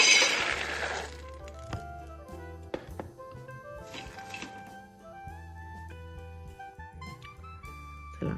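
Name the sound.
peanuts being roasted in a pan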